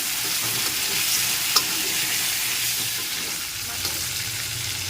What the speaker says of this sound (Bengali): প্রথমেই ফুলকপিটা ভেজে নিচ্ছি ফুলকপিটা একটু কাঁচা গন্ধ থাকে তাই প্রথমে একটু ফুলকপিটাকে নেড়ে চেড়ে ভালো করে ভেজে নিতে হবে